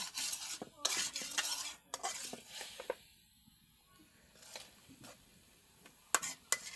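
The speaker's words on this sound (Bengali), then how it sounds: "আলুগুলোকে দিয়ে দিয়েছি কারণ আলুটা সেদ্ধ একটু সময় লাগে তরকারিটাতে কষিয়ে নেব" Potato curry being stirred and sautéed in a pan in a home kitchen, with a spatula scraping and clinking against metal in irregular bursts, a soft sizzle underneath and brief quiet gaps between strokes.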